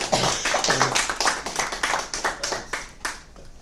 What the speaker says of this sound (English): maybe we owe him a round of applause for his service